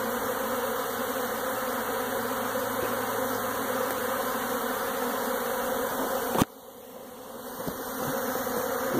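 Dense, steady buzzing of many gentle honey bees close by around hives, filling the air continuously, with a brief bump and slight drop in level partway through.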